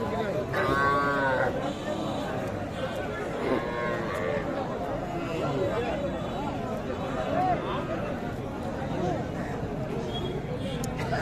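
At a cattle market, a young bull calf around three months old lows amid a busy crowd, with voices chattering throughout and a moo rising clearly near the start over the steady babble.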